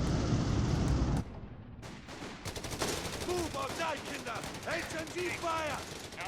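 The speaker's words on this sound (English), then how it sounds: "The MG coming in handy as well" Machine gun bursts rattle across a Company of Heroes 3 battlefield, a dense roar at first giving way to repeated short volleys and whistling shells, with a commentator talking over the fighting.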